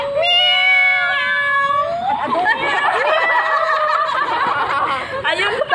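A house cat meows several times, clear and close, with long drawn-out cries and a few shorter calls, alongside people laughing and talking.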